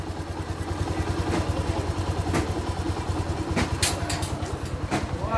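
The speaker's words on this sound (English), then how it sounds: "at the moment the motorcycle is running well" A Bajaj Boxer X150 2020 motorcycle idles smoothly up close, its single-cylinder engine beating in an even, rapid putter with a light mechanical clatter and a few ticks, no voices over it.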